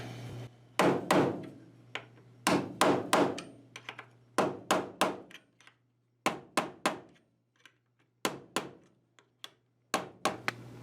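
Repeated sharp taps in quick clusters of three or four, close and crisp, as tuning machine ferrules are pushed down into a guitar headstock, separated by short pauses over a faint steady hum.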